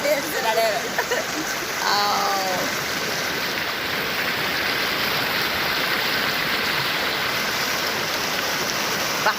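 Water pours steadily down Katika waterfall in a loud, continuous rushing roar that fills the scene, with brief talk over it near the start.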